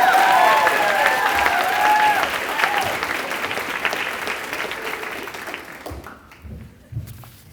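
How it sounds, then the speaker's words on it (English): Audience applause at a senior speech event welcoming a speaker, a dense, steady clapping that gradually thins and fades out over several seconds, with a few scattered final claps near the end. "so please help me welcome Eesha, Sai, Jeremiah, Gudiseva."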